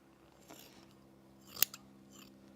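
Scissors cut fleece fabric binding with a faint snip and then one sharp, close clip, quiet against a soft steady hum. No voices.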